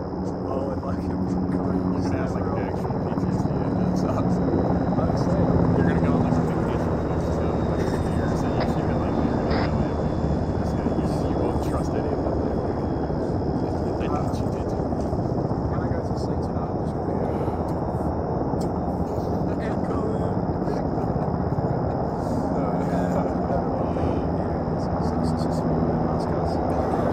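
Helicopters in the ArmA 3 military video game drone steadily throughout, a dense continuous rotor and engine roar that holds at an even level for the whole stretch without fading in or out.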